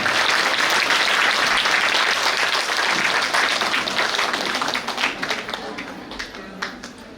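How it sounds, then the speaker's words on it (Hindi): An audience at a cultural program claps loudly and continuously, the applause gradually thinning into scattered individual claps toward the end. "जोरदार तालियां"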